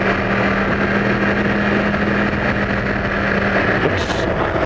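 A Yamaha R1 sport motorcycle engine at low RPM on a demo test ride, a steady droning hum mixed with heavy wind rush, loud and constant with no speech.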